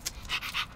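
A dog pants in quick, close breathy bursts, three or four short huffs in under a second, heard alone in a room where an RC truck body is being painted.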